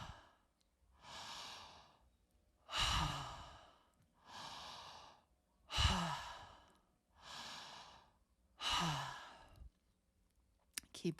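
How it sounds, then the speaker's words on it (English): Deep rhythmic breathing during a connected breathwork practice, six long audible breaths drawn in and let out in a slow steady cycle, close and clear with no talking. "and breathing in"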